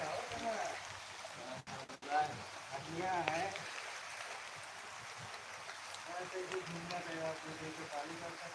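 Heavy rain falls outdoors in a dense, constant hiss, with faint voices murmuring in the background beneath the downpour.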